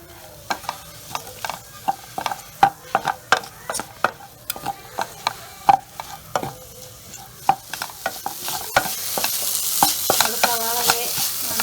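Onions sauté with a pinch of salt in a pan for Kerala-style beef roast, a steady close sizzle broken by regular clacking stirs of a spoon against the pan, growing louder toward the end.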